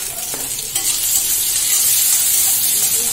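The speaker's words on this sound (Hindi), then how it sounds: "ये आयरन की कढ़ाई में बना रहे हैं क्योंकि ज्यादा अच्छा बनता है आयरन की कढ़ाई में" Vermicelli frying in an iron kadhai gives a steady close sizzle and hiss, with a few stirring scrapes and no talk.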